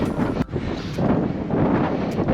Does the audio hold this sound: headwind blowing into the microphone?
yes